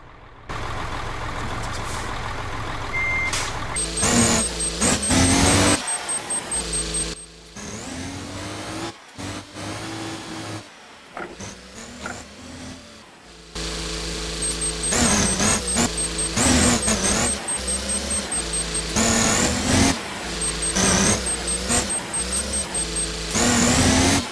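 A truck engine in Euro Truck Simulator 2 rumbles and revs in loud bursts while the truck maneuvers, with the engine note rising and falling and dropping out in short gaps between pushes of throttle.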